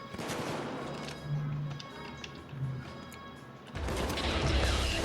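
Clarion rifle in a video game, fired in short bursts, gives clipped rattling volleys that recur at steady intervals under a continuous mechanical hum, ending with a louder, denser stretch.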